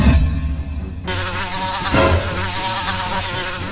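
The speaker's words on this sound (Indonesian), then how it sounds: "Aduh, kok banyak lalat gini sih?" Many houseflies swarm around a dirty meatball-soup stall, a dense, continuous high buzzing that swells in suddenly after a brief low rumble and holds steady and close.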